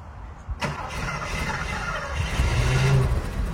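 Mercedes V8 engines, a W116 450 SEL 6.9 and a W140 S500L 5.0, cranking and firing up with a sharp catch, then settling into a loud, rumbling idle close by with rising throb.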